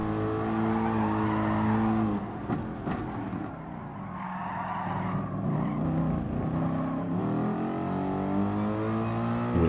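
Race car in Gran Turismo Sport oversteering, its engine droning under load as tires squeal and skid through a corner, then revving back up on the exit, loud and continuous.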